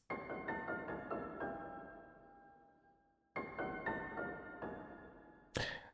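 Layered dark piano plays a sequence of soft struck notes that ring and fade, then repeats the phrase, ending with a short noisy burst.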